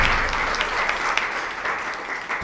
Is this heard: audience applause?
yes